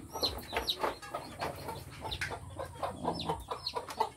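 Chickens and chicks on a farm cluck and peep in quick, overlapping bursts, close by, with rustling underneath and no talk.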